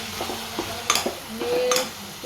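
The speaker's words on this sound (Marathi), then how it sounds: "आता फक्त थोडंसं परतून घेते" Vegetables and spices for pulao are stirred in a pan, with a few clinks and scrapes of the spoon against metal over a light, steady sizzle, close up.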